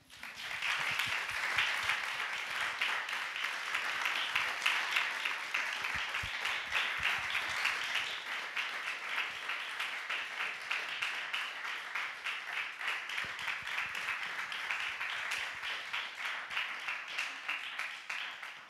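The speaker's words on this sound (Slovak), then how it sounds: "Veľmi zaslúžene tento potlesk" A live audience at a public event in Žilina, Slovakia, applauds loudly and steadily for a long stretch of dense, sustained clapping with no break and no talking over it.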